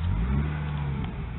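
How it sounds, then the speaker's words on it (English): A Ford E-350 van's V10 engine runs at a steady, smooth idle just after starting, a low close rumble with no voices. "Let's start up this engine"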